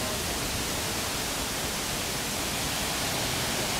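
Shiraito Falls in Karuizawa pours down as a steady, dense roar of falling water. The sound stays even and broadband throughout, with no other noise standing out.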